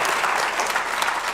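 A concert audience claps steadily, a dense even wash of many hands applauding at moderate loudness throughout, with no individual voices standing out.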